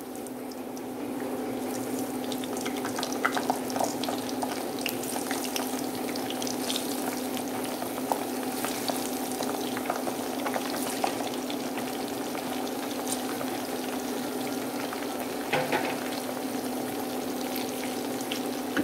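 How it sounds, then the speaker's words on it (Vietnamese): Young jackfruit pieces fry in a pan of oil with a little cashew oil for a vegetarian dish, giving a steady, moderate sizzle with scattered small pops over a constant low hum throughout. "Bây giờ mình bỏ mít vô mình chiên nha."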